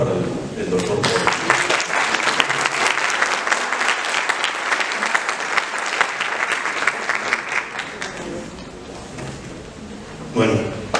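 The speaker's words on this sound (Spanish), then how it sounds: "les pido un fuerte aplauso para el doctor Pedro" Strong, sustained applause from a conference audience welcoming a doctor to speak at a talk on teachers and diversity, a dense wash of clapping that holds steady for about eight seconds, then fades with a brief renewed burst near the end.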